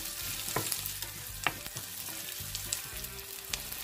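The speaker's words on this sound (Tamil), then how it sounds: "வெங்காயம் சின்ன சீரகம் பெருஞ்சீரகம் வதங்க விட்டுருக்கிறேன். இது நல்லா வதங்கட்டும்." Onion, cumin and fennel sautéing in a pan for spinach kootu, a close steady crackling sizzle with frequent small pops and stirring scrapes throughout, quiet and continuous with no voices.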